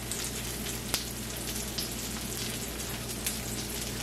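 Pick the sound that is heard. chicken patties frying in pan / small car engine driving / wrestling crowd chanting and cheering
chicken patties frying in pan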